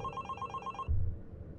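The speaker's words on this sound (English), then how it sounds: "Answer the phone, please." Electronic telephone ringing in the horror video game The Box, a rapid trilling ring pulsing for under a second before cutting off, followed by a low thump.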